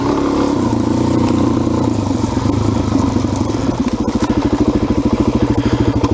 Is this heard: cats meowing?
no